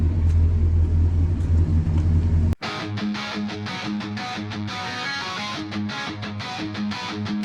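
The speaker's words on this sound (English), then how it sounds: "Turn the key, hear that rumble" A 1968 Oldsmobile 442 engine rumbles low and steady, then the sound cuts abruptly into a busier, brighter roar; no talking.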